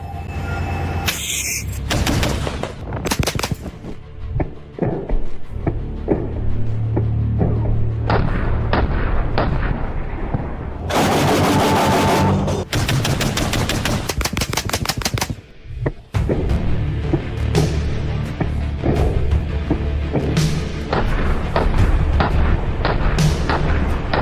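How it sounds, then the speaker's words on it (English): Gunfire in a military vehicle video game aimed at a BMP-3 or Bradley turret: loud, rapid bursts of automatic fire broken by short pauses, along with heavy mechanical clanking throughout. "now let's shoot at the turret a little bit"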